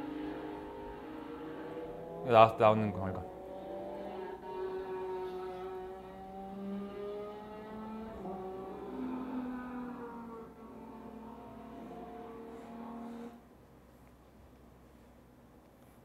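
Recorded race car engines from motorsport play at moderate level through a room system, with sustained whining tones that rise and fall as the cars rev and pass, and a brief loud burst early on. A short voice speaks once.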